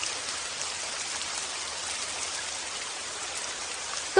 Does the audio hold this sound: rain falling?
yes